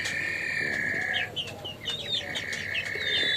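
Chickens clucking in a rooftop poultry coop, with several birds making short, overlapping calls and higher chirps that run steadily and close by throughout, with no voices present.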